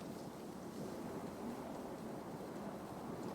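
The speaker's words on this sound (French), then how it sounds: "C'est du vent." Steady wind sound effect, a broad continuous rushing roar with low rumble, moderately loud and unbroken throughout, with no talking.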